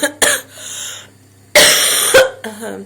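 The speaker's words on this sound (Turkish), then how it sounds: "Öksürüyoruz değil mi kızım?" A sick child coughs up close, a few harsh throaty coughs in two short bursts with brief quiet between them.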